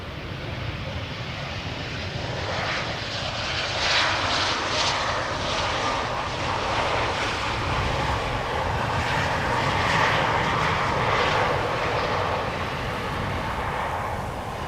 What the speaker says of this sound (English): Delta Airlines A330 Neo will be coming next after the Adler